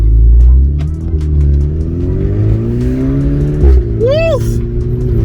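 Volkswagen Polo 6R GTI with a DSG gearbox accelerating hard, its loud engine note rising steadily through the revs, then a brief dip at a gear change before climbing again, with voices heard inside the car.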